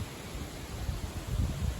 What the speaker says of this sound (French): Voilà, toutes les feuilles qui volent.